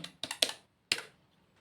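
Keystrokes on a computer keyboard typing disk partition commands in Windows, a quick burst of several clicks followed by a lone final tap, close and fairly quiet with no talking.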